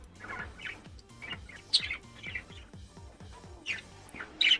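Three budgies chirp and tweet in quick, bright bursts, fairly close, with a steady low hum beneath.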